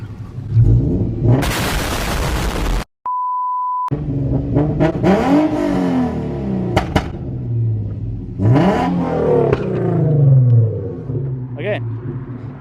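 A loud tuned Infiniti Q50 engine revs up repeatedly, roaring and dropping back, with a brief sharp burst of exhaust popping and a short tone, people talking around it.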